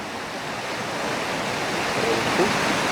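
Water runs and flows outdoors at night in a steady, dense rushing wash that holds at an even loudness throughout.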